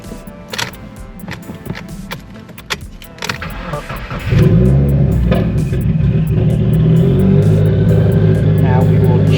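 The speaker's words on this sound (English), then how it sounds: "Alright, we'll go ahead and turn the car on." A Subaru WRX turbocharged engine cranks and fires into a steady idle after some clicks and key rattles, loud and close inside the car, settling into a continuous rumble.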